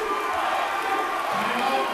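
Crowd noise at a men's volleyball semifinal between Missouri Baptist and St. Ambrose, a broad continuous roar of cheering filling the hall from start to finish.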